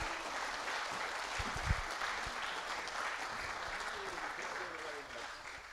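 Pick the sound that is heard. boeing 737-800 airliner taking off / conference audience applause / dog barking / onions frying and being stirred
conference audience applause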